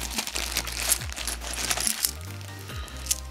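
Small coins, including Greek drachmas, clink and jingle as they are handled in a bag, with irregular metallic taps and light rustling of the bag, close and alone.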